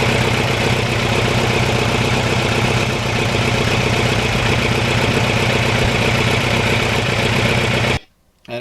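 A 1989 Kawasaki Ninja GPX750R motorcycle engine running, a loud, steady, dense mechanical drone held for about eight seconds before cutting off abruptly.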